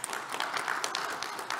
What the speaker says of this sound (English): So a huge round of applause for Akhil.